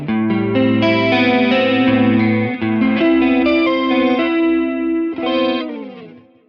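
An electric guitar plays a clean tone through a Mooer Pitch Box pedal, sounding a few sustained notes and chords with a slight shimmer, loud and close, then decaying at the end.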